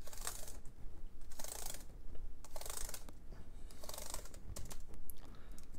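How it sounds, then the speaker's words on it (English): Someone presses keys on a MacBook Air that had liquid damage, producing bursts of quick, close clicking and tapping with short gaps, over a faint steady background hiss. "We're gonna test the keyboard."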